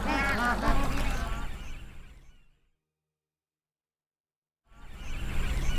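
Bar-headed geese call in a noisy flock, a dense overlapping clamour of honks before it fades to silence, then resumes loudly.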